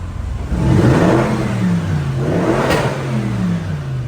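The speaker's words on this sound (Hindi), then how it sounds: "now let me show you the exhaust note" A Bentley Continental GT's engine revs hard twice, its loud, close exhaust note rising and falling with a steady rumble between the pulls.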